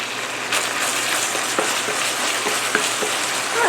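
Chopped meat for sloppy joes browns in a pan, giving a loud, close, steady sizzle broken by the scrape and tap of a wooden spoon stirring it.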